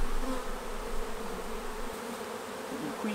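Honeybees buzz steadily throughout a beehive colony check, a continuous low insect hum close by, with no talking.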